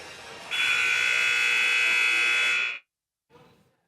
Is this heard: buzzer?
yes